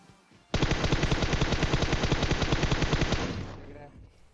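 A sustained burst of rapid automatic gunfire in PUBG Mobile rattles loudly for about three seconds, then cuts off abruptly, with crisp game sound effects.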